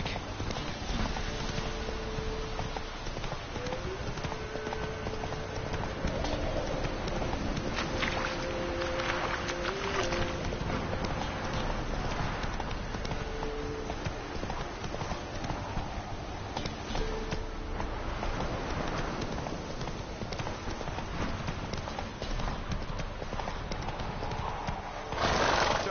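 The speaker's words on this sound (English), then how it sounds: "Time to water the horses." Horses clip-clopping steadily with occasional whinnies in The Witcher 3 game world, hooves thudding continuously over wind and water ambience with no speech.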